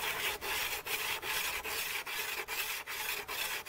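A diamond sharpener works the blade of a Habilis Trapper knife outdoors on a stump, giving close, rhythmic raspy scraping strokes repeated about twice per second with brief pauses between them.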